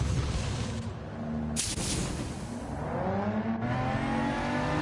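A BMW's engine revs while driving, rising and falling in pitch with harmonic sweeps and a sharp burst midway, loud and close throughout.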